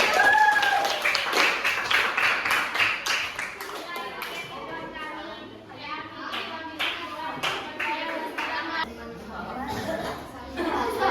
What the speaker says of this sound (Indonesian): coba tepuk tangannya semuanya